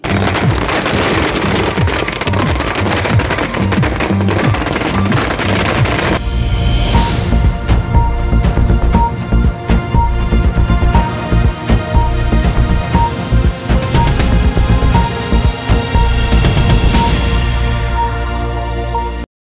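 Dense, continuous crackling and popping of fireworks goes off in rapid bursts, loud and sustained, with occasional brighter bangs rising above the barrage.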